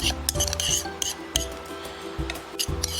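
Dry salt and black pepper seasoning for lemon garlic chicken being stirred together, giving repeated short scraping, rasping strokes over a steady tonal background.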